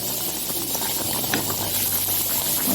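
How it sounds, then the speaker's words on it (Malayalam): A pot of catfish curry bubbles steadily, giving a soft continuous hiss with faint gurgles and an occasional small pop, heard close and alone. "നമ്മൾ ഏട്ടക്കറി നന്നായി തിളച്ച് നല്ല റെഡി ആയിട്ടുണ്ട്."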